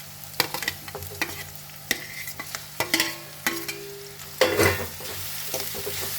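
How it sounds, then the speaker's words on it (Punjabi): Green chilies and tomatoes frying in a pan for soybean bhurji, a low sizzle under repeated sharp clinks and scrapes of a spatula stirring, with a louder burst of frying near the end. "ਹੁਣ ਆਪਾਂ ਇਹਦੇ ਵਿੱਚ ਹਰੀ ਮਿਰਚ ਤੇ ਟਮਾਟਰ ਇਹ ਵੀ ਪਾ ਦੇਵਾਂਗੇ"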